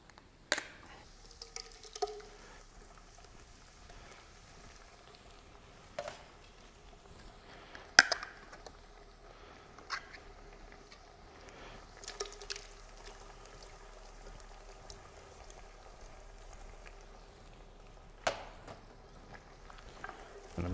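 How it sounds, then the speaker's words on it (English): Two tins of chopped tomatoes tipped into a frying pan of fried tomato puree for a smoked brisket chili, faint sizzling and wet pouring with scattered clinks and taps of the tins spread through a quiet kitchen. "we're just going to add 2 tins of chopped tomatoes"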